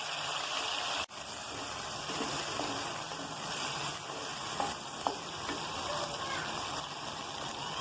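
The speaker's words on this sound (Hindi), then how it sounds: "टमाटरों को थोड़ी दरमियानी फ्लेम पे हल्का सा पका लूंगी।" Six chopped tomatoes fry in a quarter cup of oil over medium flame, a loud, even, close sizzle running throughout, with one sharp knock near the start and a few faint clicks later.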